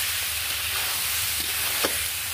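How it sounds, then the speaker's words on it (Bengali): Water poured into a pan of sizzling fried spice masala for a dhoka curry, giving a loud steady hiss and crackle with brief splashy bursts as the liquid hits the hot oil. "এবার আমি এর মধ্যে জল দিয়ে দেবো।"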